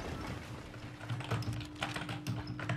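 Gaming keyboard clacking under quick Fortnite inputs, clusters of light key taps and clicks arriving in short irregular flurries, near and quiet against a low background hum.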